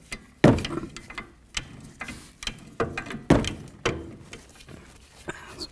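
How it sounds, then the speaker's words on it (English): Large pliers turn the inner tie rod on an 08-12 Jeep Liberty, giving close metallic ratcheting clicks and scraping grinds in irregular bursts, with no talk. "I'm going to grip onto it like this, and then I'm just going to keep turning it and turning it and turning it until this comes completely unscrewed"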